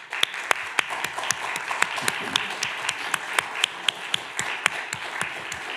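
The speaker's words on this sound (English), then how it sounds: "I want to applaud all the panelists here." Audience applause at a press briefing panel, a steady crowd of hand claps with sharp individual claps standing out, sustained and fairly close throughout.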